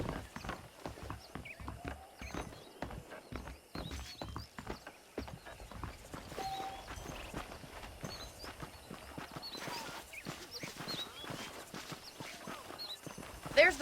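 Horse hooves clop in a steady rhythmic gait throughout in the video game Red Dead Redemption, with occasional louder hits and some background movement sounds.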